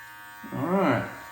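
Brio electric trimmer buzzing as it cuts eyebrows against the grain, a steady close hum that swells into a louder, rougher drone as the blades pass through hair.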